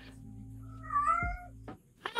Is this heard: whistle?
no